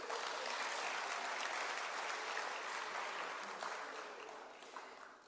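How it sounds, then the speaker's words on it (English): Delegates at a SADC parliamentary forum gathering give a sustained round of dense applause, a broad wash of many hands that holds steady and then gradually fades out. "Can you clap a hand for her?"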